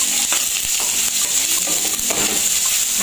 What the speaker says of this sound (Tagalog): Maglalagay na tayo ng bawang.